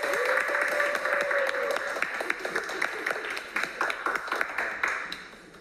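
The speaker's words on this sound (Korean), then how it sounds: "자, 큰 박수로 맞이하겠습니다." A studio audience at a Korean variety show greets a Monsta X member with applause, a dense burst of clapping that thins into scattered individual claps, with a brief whoop over the start.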